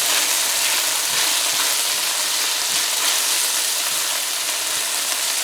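A fried tomato mixture being stirred in a hot pan, a loud continuous crackling sizzle with faint scrapes, close and steady throughout.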